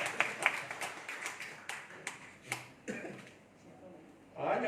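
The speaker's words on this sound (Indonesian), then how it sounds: "Ya, tepuk tangan untuk polisi." Scattered claps from an audience at a church gathering, a handful of sharp separate slaps spread irregularly over a few seconds, thin and fairly close, fading out before a swell of noise at the end.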